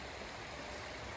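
A creek streams along a hiking trail at Natural Bridge State Park in autumn, its steady broadband rush of running water filling the scene continuously, close and fairly loud, with no voices.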